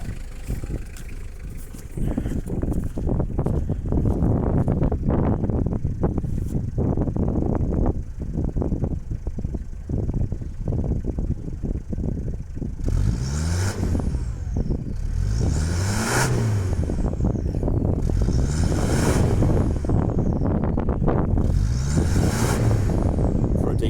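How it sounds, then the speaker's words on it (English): A Toyota Hilux Surf engine revs at close range. Repeated rising and falling surges in the second half follow a rough, noisy idle with some wind buffeting, and no voices are heard. "Can you give the engine a rev?"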